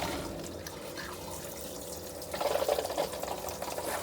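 Water draining from RV plumbing while a Safari Condo F1743 trailer with a Truma Combi system is winterized, a soft low trickle and gurgle that swells louder partway through, with faint dripping.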